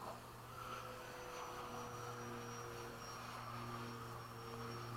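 Freewing 80mm MiG-21 RC jet with a 12-blade ducted fan and 2000 kV motor flying at dusk, giving a steady, continuous whine and rushing roar at moderate distance without pause.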